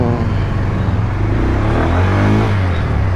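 A Bajaj Pulsar N125 motorcycle accelerates with a steady, loud, close engine drone and rising harmonics, continuous throughout with no speech.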